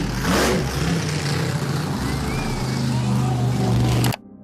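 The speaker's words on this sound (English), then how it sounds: "a monster truck rolled over a line of parked cars, revved," A monster truck engine revs loudly during a show, a close, heavy roar that holds for about four seconds before cutting off abruptly, with a voice talking over it.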